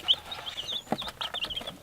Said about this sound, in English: We had some chicks already, or some chickens now, and laying hens